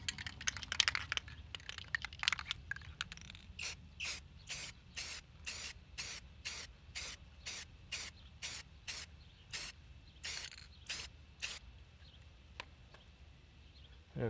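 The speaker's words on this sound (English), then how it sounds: "So we're going to go ahead and spray this." Short hissing bursts of spray paint sprayed over a stencil repeat in a quick, regular rhythm, fairly close and crisp, with faint handling noise at the start.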